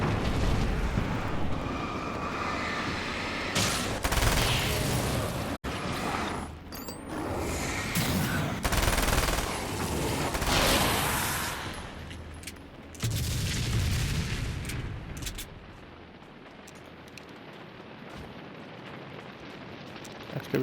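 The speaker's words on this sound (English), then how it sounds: "Get the SMG out." Bursts of SMG gunfire from the video game Alan Wake: American Nightmare, rapid loud volleys broken by short pauses and sharp impacts, with game noise between shots fading toward the end.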